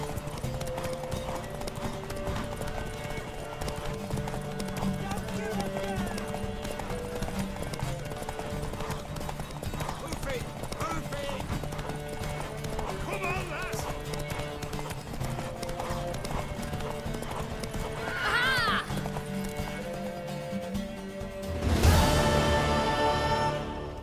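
Horse hooves clip-clopping at a gallop in The Witcher 3 video game, steady rhythmic pounding under music, with a brief neigh near the end and a louder burst of sound closing it.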